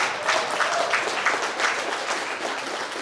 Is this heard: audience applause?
yes